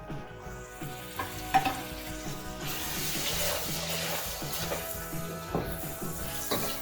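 Turmeric and coriander powder being stirred in a hot pan for chicken biryani, with a steady sizzle and frying hiss and repeated scrapes of a spoon, close and continuous.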